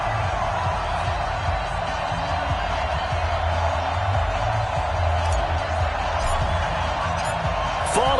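A Baltimore stadium crowd in an NFL video game holds a loud, steady roar of cheering throughout, with faint talk mixed into the dense ambience.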